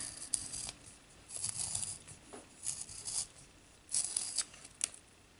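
A colored pencil is sharpened in quiet, close-up scraping and crackling bursts, irregular and soft, with short pauses between strokes.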